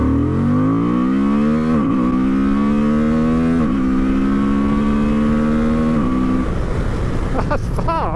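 A new Honda Transalp motorcycle accelerates hard through several gears, its engine note loud and close, climbing steeply in pitch with a short dip at each upshift before easing off near the end.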